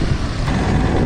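A steady, close rumble of stalled traffic on a rain-flooded road, with idling trucks and cars making a dense, even wash of engine noise and no distinct events.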